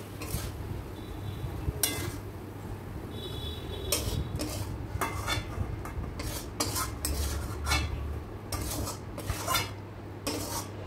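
A spoon scraping and clinking against a pan while paneer curry is stirred, with repeated sharp metallic taps and scrapes over a steady low sizzle from the burner, close and clear.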